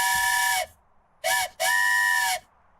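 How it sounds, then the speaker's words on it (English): A handheld train whistle is blown in three bursts: a half-second toot, a brief short one, then a longer held blast, shrill and multi-toned with a slight pitch bend at each start, close and loud with no talking. "I do have a train whistle somewhere."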